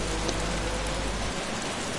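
Rain in a sim racing game during a league race at Zolder: a loud, steady wash of rainfall hiss that fills the whole stretch without a break.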